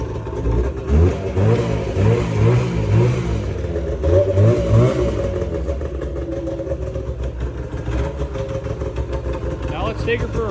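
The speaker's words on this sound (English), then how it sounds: "Rev her up, rev her up." An Arctic Cat 370 ATV engine, pulled from a barn with a cracked windshield, revs up in several throaty bursts then settles into a rough idle, with a voice talking over it.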